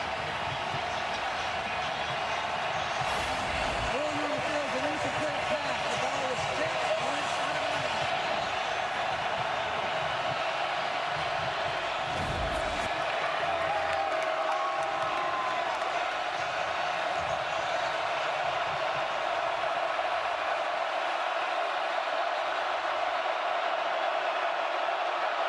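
Steady roar of a college football stadium crowd at an Ole Miss versus Oklahoma game, a continuous wash of distant cheering and noise that holds throughout, with a few brief louder swells.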